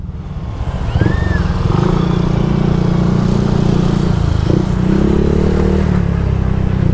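A motorcycle fitted with a T4S aftermarket exhaust pipe idles and revs up close, a loud continuous engine rumble that rises with throttle blips and settles back, with slight mechanical clatter.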